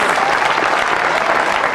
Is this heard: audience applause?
yes